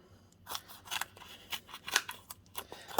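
Scissors snip through foam sheets for card making, a series of close, crisp cuts arriving in an uneven rhythm, with no voices.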